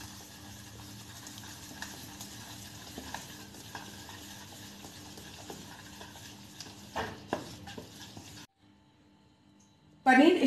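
Gram flour, yogurt and marinade are stirred together for a paneer coating, giving soft scraping and stirring noises up close. A low hum of sizzling runs under it, then a short silence and a sudden loud burst at the end.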